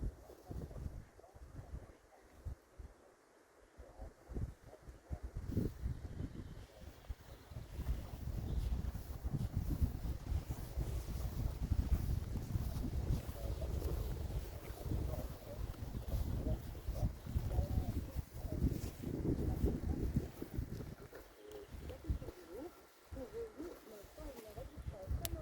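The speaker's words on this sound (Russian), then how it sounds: "Вот такой вот ветер. Бушует все." Strong wind blusters across Lake Seliger beside a forest, a loud continuous roar with gusty buffeting on the microphone and a faint rustle, rising and falling over about twenty-five seconds.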